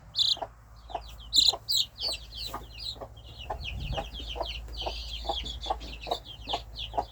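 Chickens cluck in a steady run of short, close calls, one after another, with a low background hum and no talk.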